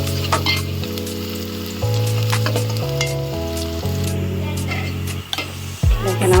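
Onions fry steadily in a pan for vegetable khichuri, giving a continuous close sizzle with occasional spatula stirs, over a sustained musical backing.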